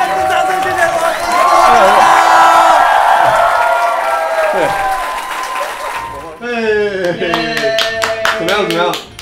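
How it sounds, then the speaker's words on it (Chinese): A studio audience at a taped comedy variety show breaks into sustained applause with some cheering, loud and dense for about six seconds before thinning into scattered claps and voices. "观众再次掌声，谢谢我们！"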